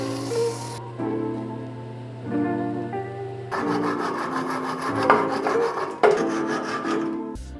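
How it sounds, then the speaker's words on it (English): A purpleheart wood French rolling pin sanded as it spins on a woodturning lathe, with a steady hum at first, then rough, rasping friction bursts that rise and fall in strokes. "All I need to do is sand it and put some oil on it, and then part the ends off."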